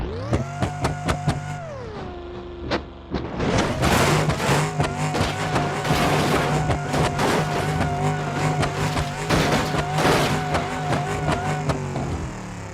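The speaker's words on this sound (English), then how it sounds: "BeamNG Drive, a strangely named sandbox driving game that is known for having one of, if not the most realistic car physics ever created" A car driven in the sandbox driving game BeamNG Drive revs in rising and falling engine tones, then accelerates hard with loud, continuous engine noise and bursts of tire squeal and skidding.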